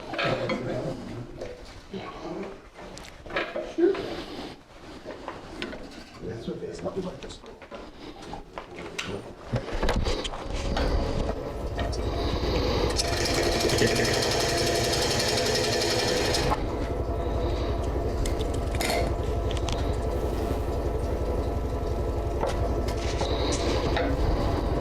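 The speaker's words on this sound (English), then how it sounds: "All right, so I'm going to start forming the tenon." A lathe turning tool cuts a tenon on a wooden bowl blank, first with uneven scraping and chattering contacts, then a steady, loud, continuous cutting roar that holds for more than ten seconds.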